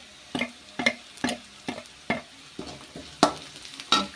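Pav bhaji ingredients fry and brown in a pan, a low sizzle broken by a regular run of spatula scrapes and knocks, roughly two per second, close and without voices.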